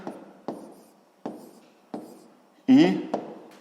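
Pen taps and strokes mark numbers by hand on paper during a sixth-grade maths exercise, a few distinct, close scratches spaced about every half second, with a brief spoken word partway through.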